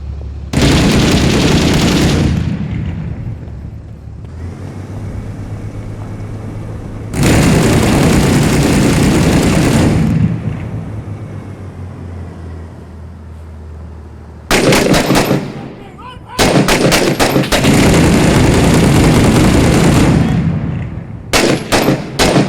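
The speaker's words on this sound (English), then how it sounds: "There's effective RPG fire coming from a house just south of you." Heavy gunfire and explosive RPG blasts fill a combat scene in the video game Six Days in Fallujah, long loud roaring bursts broken by quieter gaps and then sharp rapid volleys of shots, close and intense.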